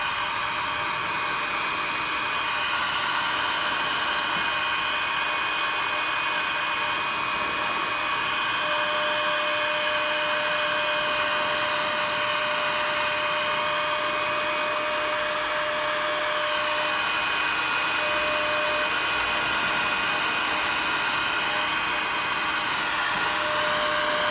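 A heat gun blows a steady, even airflow hiss and hum while heating a battery cable, constant and close throughout, with no talking.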